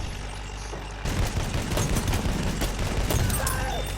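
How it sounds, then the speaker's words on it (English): Sustained rocket and gunfire in a tank and artillery truck battle video game, erupting abruptly after a second of engine rumble into a loud, dense barrage that continues to the end. "Why were you shooting at me with a rocket gun if you're gonna miss?"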